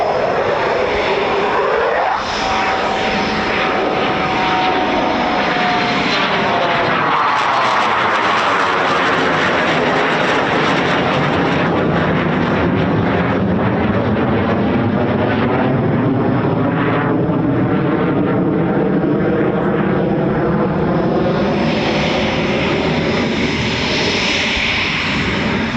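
A Eurofighter Typhoon FGR4 flies a touch and go at RAF Coningsby, a loud jet roar whose pitch sweeps down in a pronounced Doppler shift as it passes, then builds again into a rising engine surge.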